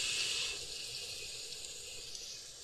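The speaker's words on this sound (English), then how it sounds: "Now we need to go turn the water off." A tap runs in Call of Cthulhu, a steady hiss of flowing water that starts slightly louder and settles into a constant, fairly faint stream with no voices.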